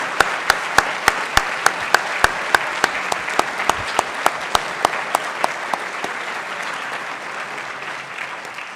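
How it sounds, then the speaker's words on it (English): A school audience gives the teachers a round of applause, with sharp loud claps near at hand standing out early over a dense wash of clapping that then settles into a steady even patter. "please give our teachers one more well-deserved round of applause"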